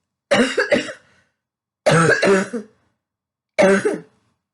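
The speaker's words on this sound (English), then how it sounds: "Sorry, I have to cough a little bit." Three separate coughing fits, each a quick cluster of harsh coughs, close and loud with short silences in between.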